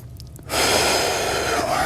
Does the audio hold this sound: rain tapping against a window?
no